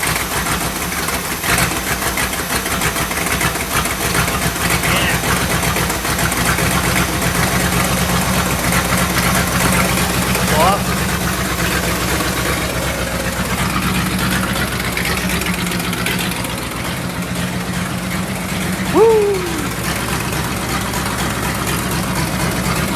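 A 1965 Imperial LeBaron engine running and idling, a steady deep rumble that holds for the whole stretch, with a brief brighter rise near the end.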